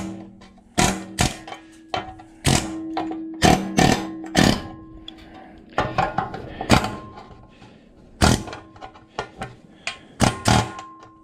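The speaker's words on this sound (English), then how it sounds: "which I'm going to use the air chisel, my tool of choice" An air chisel knocks rivets off a condenser fan motor being scrapped for copper: irregular bursts of sharp rattling metallic blows and clanks, loud and close, separated by short pauses.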